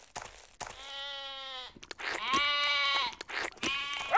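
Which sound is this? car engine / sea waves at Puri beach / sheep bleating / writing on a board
sheep bleating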